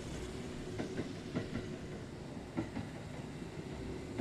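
A train rolls past in the horror video game Burger & Frights, a faint, steady rumble with sparse, evenly spaced clacks of wheels over rail joints; no voices.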